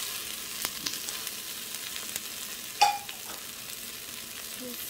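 Potatoes fry in butter in a pan with a faint, steady sizzle, broken by a few soft pops and one sharper crackle midway. No talk is heard.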